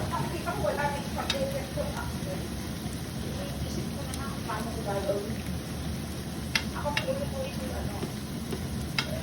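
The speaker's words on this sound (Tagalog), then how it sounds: "ginigsa ko lang. Para lumambot na." Food sautés in a pan with a steady close sizzle, while a utensil clicks and scrapes against the pan now and then; people talk over it.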